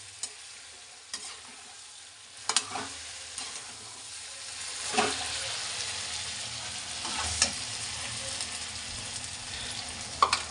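Potatoes frying in a kadhai give a steady, moderate sizzle under occasional stirring clicks and scrapes of a spoon against the metal pan, with no one speaking.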